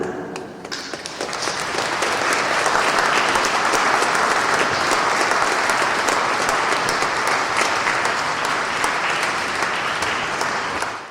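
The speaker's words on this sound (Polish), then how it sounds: "dołączymy do tego gromkie brawa dla księdza Nikłana" Loud, sustained applause from a cathedral gathering for a priest at his golden jubilee, a dense crowd of clapping that swells after the first second and holds steady before easing off at the end.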